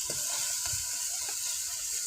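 Tomato, garlic and coriander masala frying with turmeric and salt on a wood-fired clay stove, a soft continuous sizzle with faint stirring taps, close but quiet.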